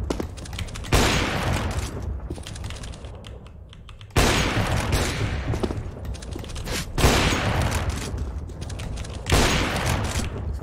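Rapid gunfire in a competitive online first-person shooter, with several dense bursts of automatic shots, loud and close, separated by brief pauses and no talking.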